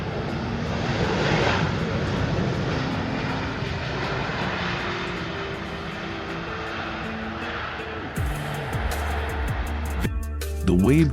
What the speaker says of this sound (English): The landing of the Airbus A321 caused it to wobble and nearly hit its tail.